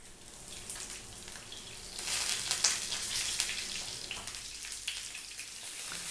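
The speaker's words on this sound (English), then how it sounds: "What we're going to do is we're going to drop in our ribs." Pork spare ribs frying in a wok over medium heat, a steady hissing sizzle that grows louder and crackles as the meat is turned, with no talk.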